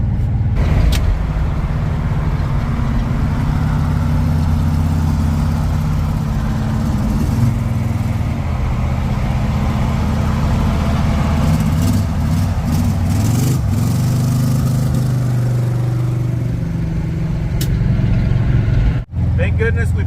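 A 1956 Chevrolet with a newly fitted exhaust system drones steadily as it drives down the road, a loud continuous low engine rumble heard from inside the car, with a person talking over it.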